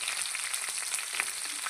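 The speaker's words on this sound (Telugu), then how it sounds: "కరివేపాకు వేసుకున్నాక ఇది కొంచెంసేపు మగ్గినాక" Curry leaves crackle in hot oil with cumin and mustard seeds, a dense bright sizzle with small popping bursts throughout, close and unbroken by speech.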